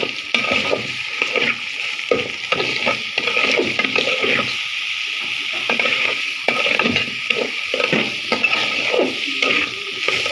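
Rice being fried for biryani in a pan with a little oil, giving a steady, close sizzle broken by repeated scraping stirs and the odd knock against the pan throughout.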